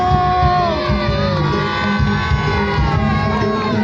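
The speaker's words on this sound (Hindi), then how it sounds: "जोरदार तालियां।" A crowd cheers and shouts at a festive Sita swayamvar tableau performance. The cheering is loud and continuous, with whoops and children's shouts over the whole stretch.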